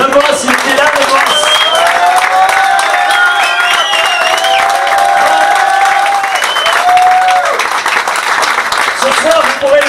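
Sustained audience applause at an agricultural fair, the crowd clapping loudly and continuously for the whole stretch while a voice talks over it through a public address.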